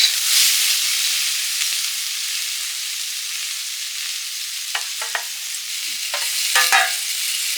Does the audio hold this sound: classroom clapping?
no